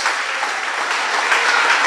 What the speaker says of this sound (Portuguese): dá para Ele uma linda salva de palmas, porque Ele merece.